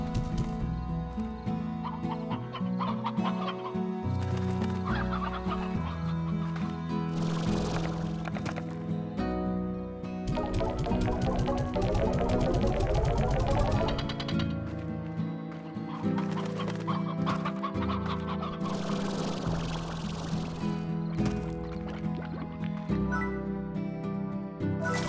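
Chickens cluck and squawk in the farm game Slime Rancher, a steady busy flock sound over layered game music filling the whole stretch.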